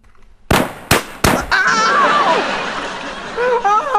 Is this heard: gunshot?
yes